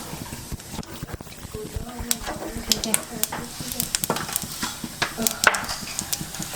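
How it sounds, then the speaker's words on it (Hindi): Cumin seeds crackle and sizzle in hot oil in a home kitchen, a steady frying hiss dotted with sharp pops and ticks, with a voice talking over it. "तो अभी से ऑयल को गर्म होने देते हैं, थोड़ा सा जीरा"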